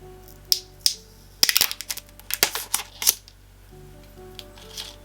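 An Apple Pencil box being opened by its pull tab gives a burst of sharp tearing and crackling card sounds, with a few isolated clicks before and after, close and clear with no talk.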